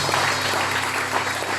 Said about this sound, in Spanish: ¿Por qué no le das un fuerte aplauso a Dios?